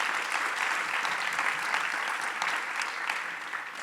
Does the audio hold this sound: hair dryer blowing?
no